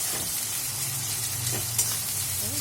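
Onions frying in a pan for spicy mutton kosha, a steady close sizzle with a soft hiss and faint stirring scrapes, no talking.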